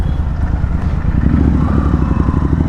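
Royal Enfield Continental GT motorcycle fitted with a Thrive exhaust, riding through the city with a loud, close, deep thumping exhaust note that rises slightly in pitch as it pulls.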